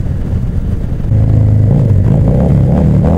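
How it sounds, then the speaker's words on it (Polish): Kawasaki Vulcan motorcycle exhaust on the road, a steady loud low drone with a rumbling, even pulse that rises slightly partway through, heard from the rider's position. "Niebezpieczny wydech, usypiający."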